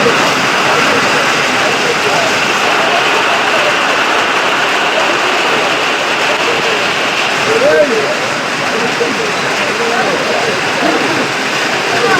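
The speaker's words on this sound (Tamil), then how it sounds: "மழையும் விடுற பாடில்லை" Steady rain falling near a fish market in Jaffna, a loud dense hiss that continues without pause, with a voice speaking faintly beneath it.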